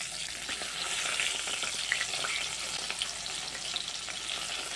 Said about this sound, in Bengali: এখন আমি ওই মাছ ভাজা তেলের মধ্যে দিয়ে দেব কেটে ধুয়ে রাখা সেই বেগুনের পিসগুলো